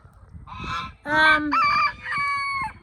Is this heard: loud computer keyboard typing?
no